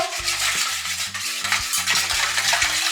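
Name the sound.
mixing liquid for cookie dough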